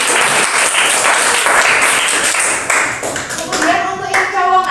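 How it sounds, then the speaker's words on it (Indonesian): Schoolchildren in a classroom applaud a classmate with a loud burst of mixed clapping, and a voice speaks briefly near the end. "Tepuk tangan untuk teman kita."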